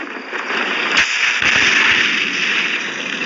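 A gunpowder-filled candle explodes with a sharp crack near the one-second mark and a second, rougher burst just after, both over a steady hissing fizz that runs through the whole stretch.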